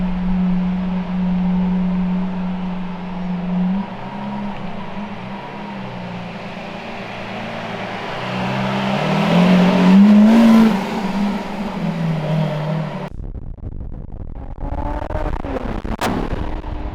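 A Lamborghini Countach with a 6.5-litre naturally aspirated V12 drones loudly from inside the car, climbing in pitch as it accelerates, then cutting abruptly to a rougher, quieter engine note.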